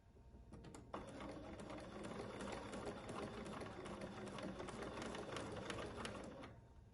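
A sewing machine stitches a bag in a steady, fast mechanical whir with rapid needle clatter that runs for several seconds and then stops, close and fairly quiet.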